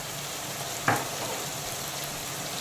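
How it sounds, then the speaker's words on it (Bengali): Ginger, garlic and dried chili paste hits a pan of frying onion and tomato with a sharp burst of sizzling, then settles into a loud, steady fry close by, with no voices. "এখন আমি দিয়ে দেব আদা রসুন আর শুকনো ঝাল লঙ্কা মিহি পেস্ট"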